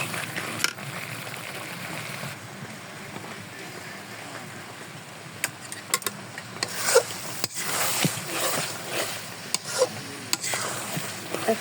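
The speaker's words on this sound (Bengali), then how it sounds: "ভালোভাবে আমি নেড়ে 2 মিনিট মতো নেড়ে নেব।" Beef and potato bhuna with boiled lentils is stirred in a pan, giving faint, scattered scraping and clattering strokes over a low sizzle. The strokes grow busier toward the end.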